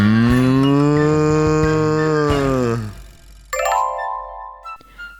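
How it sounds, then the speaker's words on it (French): A cow moos in one long, loud, close call lasting nearly three seconds, followed after a pause by a bright chime-like jingle. "La vache."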